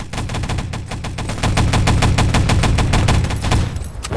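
Rapid automatic gunfire from the video game Wolfenstein: Enemy Territory, loud and sustained bursts of shots in quick succession over a dense low rumble of battle, with no speech.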